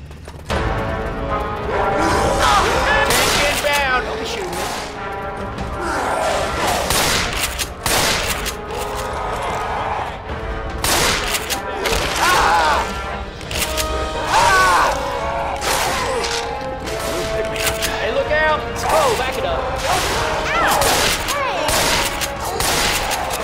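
Dense, near-constant gunfire from the video game Left 4 Dead 2 fills the scene, loud overlapping volleys of shots with crashes and impact noises layered throughout, with occasional voices.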